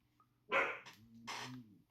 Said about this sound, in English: my dog out there is getting a little anxious with the neighbors